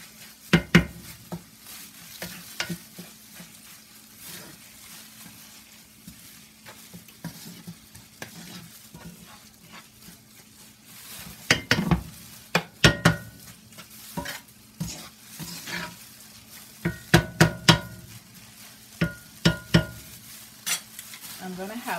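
Lean ground beef for Jamaican beef patty filling fries in a pan with a steady close sizzle, broken by repeated scraping and clattering bursts of stirring that grow busier toward the end; no one speaks.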